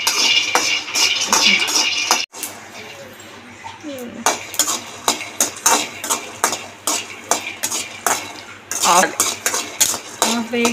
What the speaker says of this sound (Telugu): పల్లీలు సిమ్లో పెట్టుకొని దోరగా వేసుకోవాలి